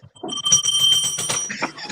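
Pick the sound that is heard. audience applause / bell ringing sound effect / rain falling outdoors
bell ringing sound effect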